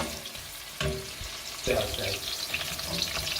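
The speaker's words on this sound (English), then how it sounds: "we're just gonna cook the onions for 5 minutes." Onions sizzle in oil in a pan over medium heat for a Ghanaian vegetable stew, a close, continuous frying hiss with a couple of stirring bumps.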